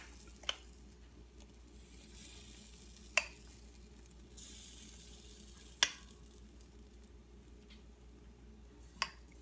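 A gluten-free, grain-free, dairy-free pancake cooks in a pan with a faint, steady sizzle, broken by a few sharp clicks or taps spaced several seconds apart.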